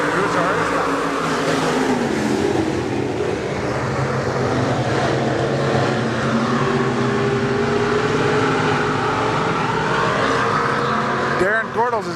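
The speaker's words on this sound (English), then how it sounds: "Heat race number 2 underway for the USRA A-Modifieds." USRA A-Modified race cars in a heat race at Nobles County Speedway, engines roaring steadily and loud throughout as the pack circles, with a commentator talking over the din.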